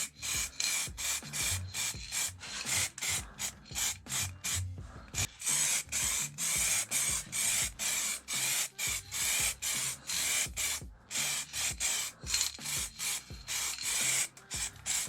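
Aerosol spray paint hisses onto metal parts of an Ogar 200 motorcycle in short repeated bursts, close and loud, with brief gaps between sprays and no voices.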